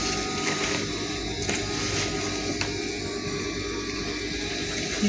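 A sewing machine runs continuously while stitching the bottom of panel dress pieces, producing a steady mechanical whir with faint regular ticking and no talk.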